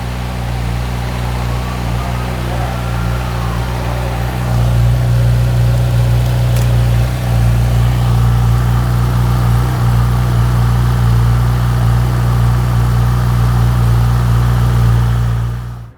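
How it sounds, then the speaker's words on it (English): A 2018 Honda CB1000R motorcycle engine idles steadily just after start-up, a close, constant low grunt that swells slightly partway through, with no talking over it. "There's a very nice grunt coming from this engine."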